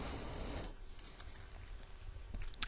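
Quiet typing on a computer keyboard while entering text into a spreadsheet cell, a short run of soft, irregular key clicks close by.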